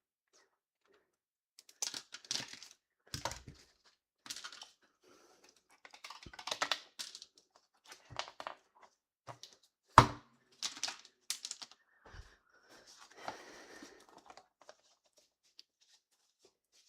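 Crisp cutting of cooling peach hard candy, a series of sharp irregular snaps and clicks, some loud and close, separated by short pauses.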